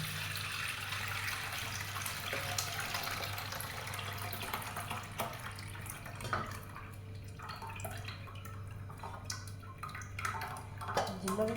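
Water is poured off boiled cream into a second cooking pot and strained while making ghee, a quiet, continuous trickle and splash with faint drips and a few clinks of the pot.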